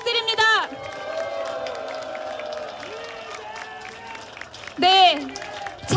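Crowd applause and cheering at a Korean election campaign rally for a county governor by-election, broad clapping and shouts washing beneath an amplified announcer's voice, with bursts of talk at the start and near the end.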